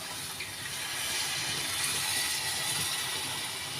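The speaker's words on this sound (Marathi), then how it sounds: "वाटण केलेलं जे भांड्यात थोडंसं मसाला उरला होता त्यातच पाणी घालून" Water is poured into a vessel holding leftover ground masala, a steady rushing pour lasting a few seconds, close and continuous, with no talking.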